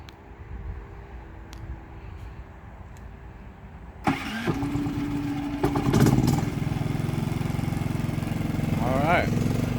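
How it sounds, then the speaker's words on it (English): A Champion 5500-watt inverter generator is started by remote: after a quiet stretch with faint background talk, the engine catches at about four seconds and settles into a steady, fairly loud running drone close by. "I did shut off the generator and I want to try the remote"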